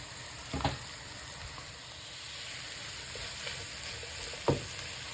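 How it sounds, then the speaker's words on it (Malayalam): Chopped ham sizzles among frying vegetables and garam masala for a ham macaroni dish, a soft steady fry with a couple of louder spoon scrapes as it is stirred, close by and without voices. "ഇനി നമുക്ക് ഈ ഞുറുക്കി ചെറുതായിട്ട് വെച്ചേക്കുന്ന ഹാം അങ്ങോട്ട് ഇടാം നമുക്കൊന്ന് നല്ലതായിട്ട് ഇളക്കി കൊടുക്കാം"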